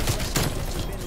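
Rapid gunfire from the Bullfrog gun in a video game crackles in quick repeated shots over about a second, close and loud, mixed with a speaking voice.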